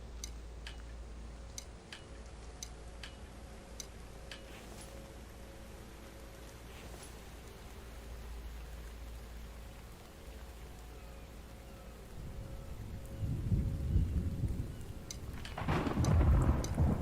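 Rain hisses steadily in the game The Infected while deep thunder rumbles low, swelling louder toward the end, with no talking.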